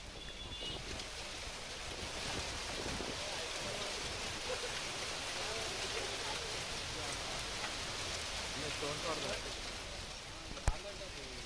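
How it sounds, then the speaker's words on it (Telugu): Heavy rain pours down across Hyderabad, a dense, steady hiss of falling water that stays even and close throughout, with a single sharp knock near the end. "హైదరాబాద్ వ్యాప్తంగా భారీ వర్షం కురిసింది."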